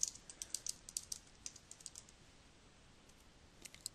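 Keystrokes on a computer keyboard while typing a report in a word processor, a quick irregular run of light clicks that thins out and pauses before a few final taps, close and quiet with no voices.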